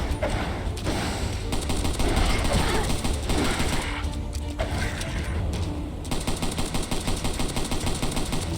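Gunfire in the video game Bright Memory rattles in rapid automatic bursts over a dense, loud wash of game effects, settling into evenly spaced rhythmic shots toward the end.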